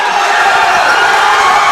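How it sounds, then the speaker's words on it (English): The crowd at a boys' high school basketball championship cheers for the Warriors with a loud, dense roar that holds steady from start to finish. "the crowd's coming alive now for the Warriors"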